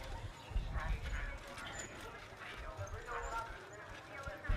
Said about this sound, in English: as you can see, he's cantering on the left rein